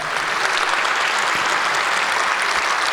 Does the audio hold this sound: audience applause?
yes